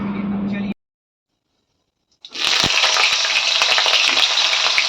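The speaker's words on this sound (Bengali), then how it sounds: "কড়াই প্রচুর গরম হয়ে গেছে। ফোড়নে দিলাম সাদা জিরে" White cumin seeds dropped into very hot mustard oil in a kadai, a sharp burst of loud crackling sizzle after a short silence, preceded by a brief stretch of talking.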